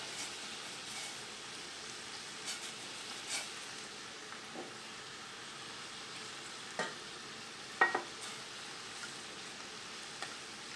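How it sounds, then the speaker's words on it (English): Butter-flour mixture being stirred into broth: a quiet, steady scraping with a few soft clinks of the utensil against the pot, and no voices. "we're going to mix in the butter flour mixture."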